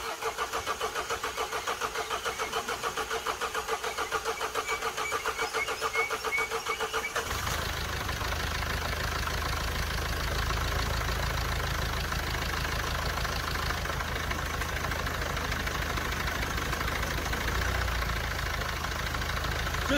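A Mercedes diesel engine cranks and catches, then settles into a steady, close idle with a low rumbling drone and a faint knocking texture.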